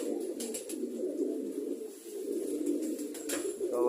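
Pet pigeons coo steadily in low, throaty rolling calls that run close and continuous, with a few brief higher rustles or flutters over the top.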